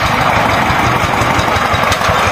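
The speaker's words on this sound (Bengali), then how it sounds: "এই পাওয়ার টিলার।" A power tiller's engine runs steadily at a paddy harvest, a loud, close, continuous throbbing chug with no pauses or voices.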